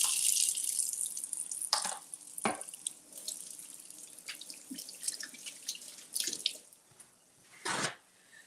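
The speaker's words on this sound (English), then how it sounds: "Let me wash my hands." Water runs from a sink tap as hands are washed, a soft continuous splash broken by a few louder gushes and drips, with no one speaking.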